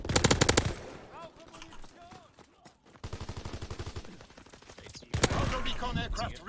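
Rapid bursts of automatic gunfire from a first-person shooter video game, loud clusters of shots separated by brief lulls, with voices talking over the action.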